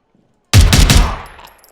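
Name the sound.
gunshots in the video game Zero Hour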